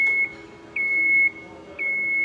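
A 2023 Peugeot 408 GT plug-in hybrid gives a repeated electronic chime during a check near the charging port and fuel cap: a steady tone that pulses several times, loud and close.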